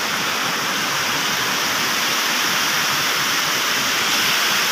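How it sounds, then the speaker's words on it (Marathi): A waterfall in the Sahyadri hills roars steadily, dense broadband rushing water pouring down continuously and close, with no voices. "पण कसं धबाधबा पाणी पडतंय तुम्ही पाहू शकता"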